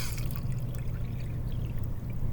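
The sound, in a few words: water poured into a burnt can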